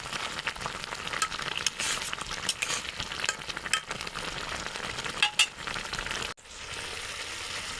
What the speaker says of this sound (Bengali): একটু নাড়া দিয়ে দেবো